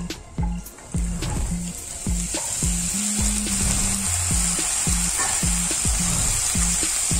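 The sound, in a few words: broccoli sautéing in oil with cumin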